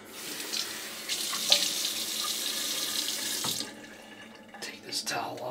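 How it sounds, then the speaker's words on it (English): Water runs from a bathroom tap into a sink for a few seconds while a razor is rinsed under it, then the flow cuts off, leaving a few faint drips and small handling clatters. "let's have a rinse."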